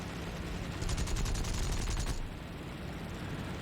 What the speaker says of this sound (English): I'm just holding the trigger down and squeezing shots off at everybody and everything